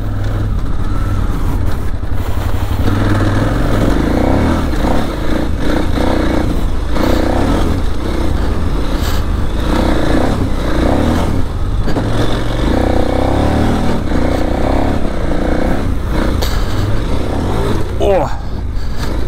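KTM 990 Adventure motorcycle being ridden, a continuous loud engine drone mixed with heavy wind rumble and clatter throughout, close and unbroken, with no clear talk over it.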